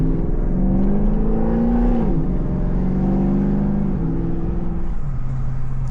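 A loud 5.7 Hemi V8 in a Jeep rumbles while driving, deep exhaust tone rising with throttle, briefly dipping around a shift, then steadying at a lower cruise note.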